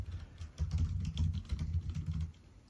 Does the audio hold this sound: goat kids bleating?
no